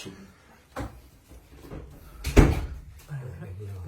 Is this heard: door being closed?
yes